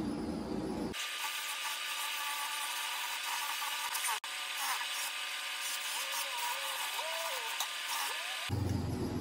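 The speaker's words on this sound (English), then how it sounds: "Take her over to the polisher and see if she gets a good shine to her." A bench polishing machine buffs a tarnished nickel-plated bolt, giving a steady, loud, broadband whir that runs almost without a break for most of the stretch before cutting off near the end.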